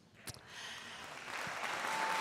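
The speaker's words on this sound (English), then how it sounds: "That deserves a round of applause" Applause rises and swells for nursing graduates at a college pinning ceremony, a crowd clapping steadily after a sharp opening sound and building louder toward the end.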